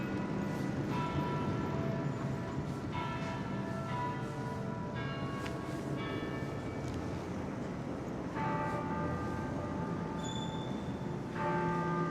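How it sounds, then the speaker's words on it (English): Church bells of St. Paul's Chapel in New York's Financial District ring in repeated, resonant strikes, heard at a moderate distance over a steady wash of city street ambience. "The bells of St. Paul's Chapel"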